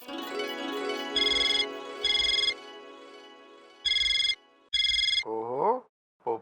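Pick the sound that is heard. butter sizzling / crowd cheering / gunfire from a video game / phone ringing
phone ringing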